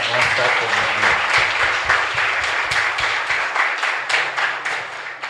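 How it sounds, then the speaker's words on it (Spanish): A church congregation applauds after Mass at a chapel, dense, sustained clapping from a crowd that carries on throughout, with voices or singing mixed in and tapering slightly near the end. "Fuerte aplauso para nuestra comunidad"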